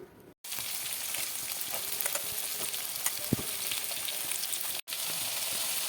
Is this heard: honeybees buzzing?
no